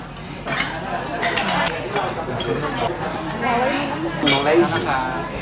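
Glasses and dishes clink in a toast at a restaurant table in Malaysia, light scattered chinks under lively chatter and voices.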